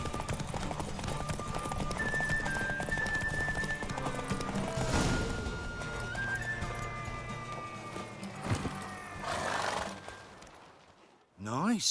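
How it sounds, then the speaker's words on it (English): Rhythmic hoofbeats of a galloping horse in The Witcher 3: Wild Hunt, with a musical score, voices talking over it and a horse whinny near the end. "Run, Roach. Got a ripe apple for you when we're through"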